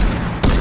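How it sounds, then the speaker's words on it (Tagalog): A harpoon gun fires in a video game: one sharp, loud burst marks the shot midway, rising over steady game noise. "Harpoon gun."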